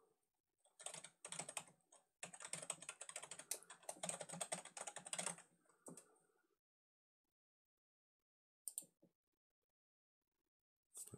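Computer keyboard typing while creating an email account password, arriving in quick clustered bursts of key clicks for about five seconds, then a pause and a couple of brief final taps, close and fairly quiet with no voices.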